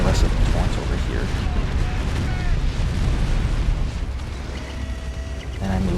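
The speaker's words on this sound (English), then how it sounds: "I destroyed this special vehicle factory, and the rest of the Torrents over here." Heavy, rumbling explosions and blasts from a vehicle factory being destroyed in a strategy game battle, a dense sustained roar filling the whole stretch, loud and continuous, with a voice talking over it.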